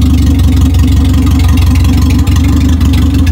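A camouflage owner-type jeep idles steadily through a loud muffler, a deep, continuous rumble that stays close and even throughout with no revving.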